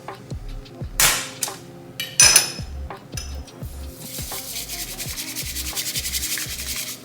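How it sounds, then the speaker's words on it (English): A bamboo whisk whisking a drink at a home cafe, giving close scraping, brushing strokes that start with a few loud swipes and settle into fast, even rhythmic whisking, no talk. "I'm just gonna use the bamboo whisk to whisk it."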